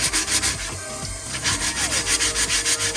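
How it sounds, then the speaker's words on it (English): A cured tumbler being wet-sanded by hand with 400 grit sandpaper, a continuous rhythmic scrubbing rasp in quick back-and-forth strokes, close and steady with no talking. "This is just 400 grit sandpaper, and I wet it."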